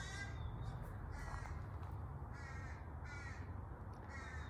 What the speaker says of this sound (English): Can you hear the baby crow?